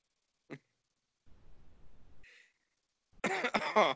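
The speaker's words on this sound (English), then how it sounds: "I cough because I have a cough." A person coughs several times, a single short cough near the start, then a muffled rumble, then a louder cluster of close coughs at the end, with silence between.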